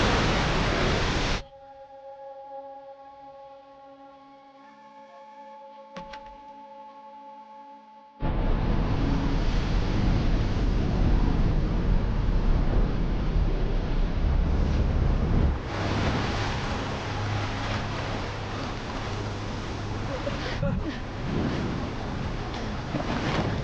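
Water floods into a sealed vault, a loud broadband rush that bursts in after a quieter humming stretch and keeps roaring steadily, surging again partway through, with no voices.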